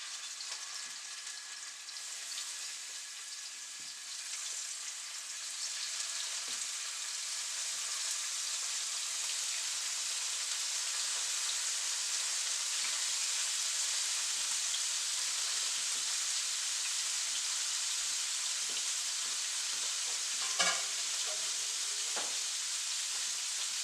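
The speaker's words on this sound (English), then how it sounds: "And now I'm just going to lay these bad boys in there and get a nice quick sear on each side." Deer liver pieces sear in olive oil in a hot pan, giving a steady, dense sizzle that holds evenly for the whole stretch, with a few faint clicks and a brief pop near the end, no voices.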